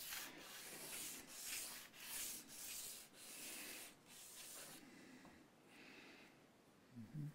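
Abrasive rasping of 80 grit sandpaper working a guitar nut on a Harley Benton DC Junior during setup, a run of steady back-and-forth strokes, close and fairly quiet, with no talking.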